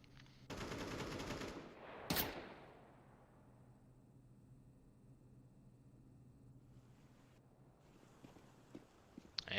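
Counter-Strike gunfire in a competitive match: a brief burst of automatic rifle shots followed by one sharp loud crack, then a long fading tail and quiet background rumble, with faint clicks near the end.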